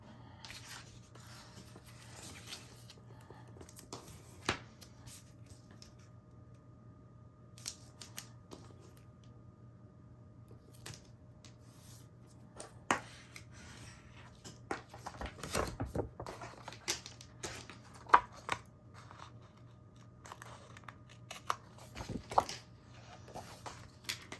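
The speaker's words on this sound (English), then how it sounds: "when I'm cutting things like this, I like to use the Teflon scissors so that it doesn't stick." Teflon scissors snip through material for a handmade mini album, giving scattered short cuts and clicks spread over a quiet stretch, with a few louder bursts of rapid snipping close by.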